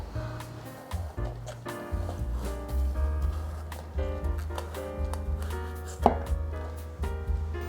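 A knife trims the thick stem of a cabbage on a cutting board, giving a series of crisp, irregular chopping taps up close, with steady tonal music underneath.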